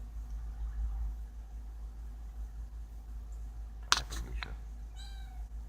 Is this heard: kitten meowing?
yes